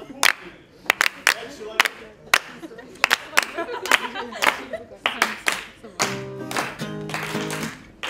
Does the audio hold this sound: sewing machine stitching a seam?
no